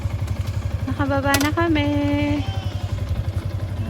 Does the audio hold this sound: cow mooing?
no